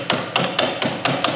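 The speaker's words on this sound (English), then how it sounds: "Let me see if I can tap it with another socket." A socket is tapped against another socket to seat it on a Hyundai Santa Fe front brake job: six sharp metallic taps at a steady, slightly uneven rhythm, close and clear with no talking.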